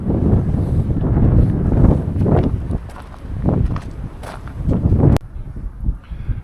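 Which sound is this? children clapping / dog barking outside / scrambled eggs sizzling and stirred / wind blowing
wind blowing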